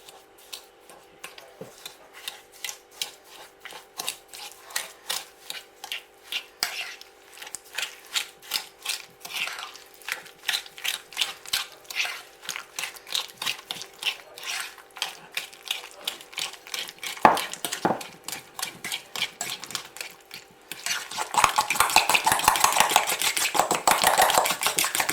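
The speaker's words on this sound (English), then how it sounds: "you want to beat 1 egg and put it in there. And you want to mix that up really good" Egg and sugar being beaten by hand for marble brownie batter, a long run of rapid, rhythmic clicking whisk strokes, steady and close, turning to a denser scraping churn near the end.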